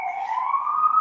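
An emergency siren on a New York City street wails in a single steady, slowly rising tone, heard from a distance through a building with no other sound over it.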